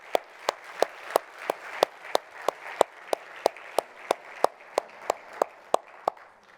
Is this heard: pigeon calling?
no